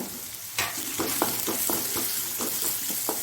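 Crushed ginger and garlic sizzle steadily in hot oil in a pan for a Mangalore-style prawn uppumunchi, with a spatula scraping through it in repeated, roughly evenly spaced strokes.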